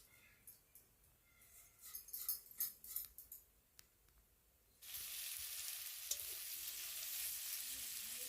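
Cooking oil bursts into a loud, steady sizzle in a kadhai wok after a stretch of quieter kitchen clatter, the hiss holding close and even until the end.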